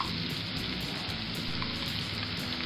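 Onion and asafoetida fry in hot oil with melted sugar in a pan for a jackfruit sabzi. A close, even, steady sizzle crackles continuously with no pauses and no voices.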